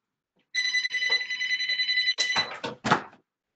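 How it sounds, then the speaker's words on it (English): A telephone rings in the middle of a leadership webinar with a bright, sustained electronic trill. Then come a few sharp clunks and handling knocks as the receiver is picked up, close and clear, with no talking. "And we got a phone call right in the middle of a webinar."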